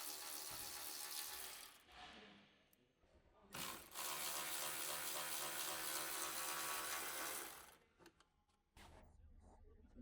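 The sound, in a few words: electric ratchet with 10mm socket removing grille mounting bolts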